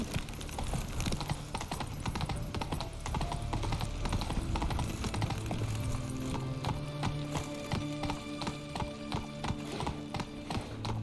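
Roach, a horse in the game The Witcher 3, gallops at a steady rhythmic hoof pace that stays loud and close for the whole stretch, with a brief whinny and faint game ambience underneath.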